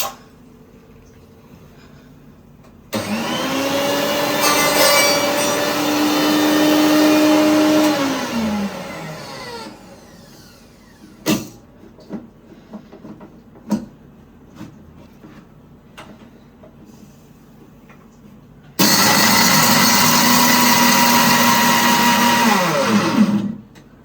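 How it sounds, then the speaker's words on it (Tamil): A mixer grinder whirs loudly in two separate bursts grinding spices for mutton curry, its motor pitch sliding down as it stops, with clinks and knocks in the pause between. "இப்போ பார்த்தீங்கன்னா மிக்சியில் அம்மா அரைக்கிறாங்க."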